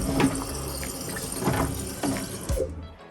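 Water runs continuously into a newly installed wall-hung toilet's cistern, a close, steady splashing hiss with a few small gurgles before it cuts off.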